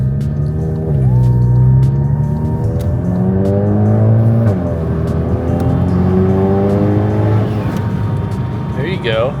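A VW MK7 GTI fitted with a GFB vent-to-atmosphere blow-off valve drives under load, heard loud from inside the cabin with engine rising and falling through several gear pulls and a brief whoosh near the end.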